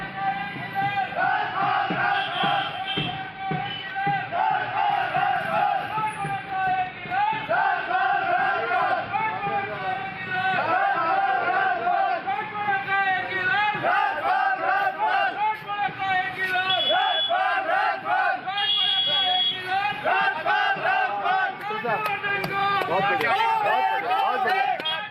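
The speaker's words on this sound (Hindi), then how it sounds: "बीजेपी के कार्यकर्ता और जनता नारे लगा रही है, कर्नल कहना मान ले, बोरिया बिस्तर बांध ले।" Loud crowd of BJP workers and members of the public chanting political slogans in unison, a dense, continuous roar of rhythmic shouting with crowd noise throughout.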